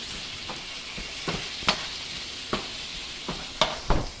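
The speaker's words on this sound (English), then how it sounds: "Give this a good stir. And let it cook for about 20 seconds." Parsi kheema being stirred as it cooks in a pan, with a steady low sizzle broken by a few distinct scraping strokes of the spoon, close and clear, with no voices.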